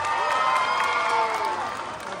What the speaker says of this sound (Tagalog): masigabong hiyawan at palakpakan dyan